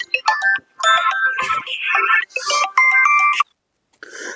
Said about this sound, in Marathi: आता कोणाचा फोन आला.